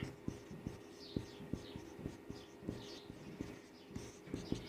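A pen scratches out number factors by hand in short, evenly spaced strokes, a quiet steady rhythm of taps and scrapes on paper close to the listener.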